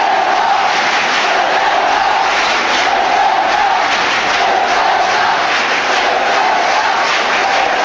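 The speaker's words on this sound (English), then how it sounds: "the Celta supporters, to their credit, trying to applaud their side off the field here" Celta Vigo supporters in a football stadium in Spain applaud their team off the field after a 1-0 UEFA Cup defeat to Aston Villa, a loud, steady, far-off crowd roar with clapping blended into it.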